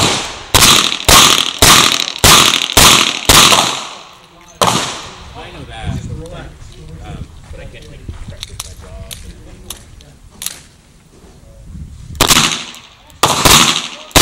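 Rapid gunshots from a .38 Special Chiappa Rhino revolver at an IDPA shooting match in Port Townsend, a fast string of about seven loud cracks, then a quieter stretch of handling and voices, then two more sharp shots.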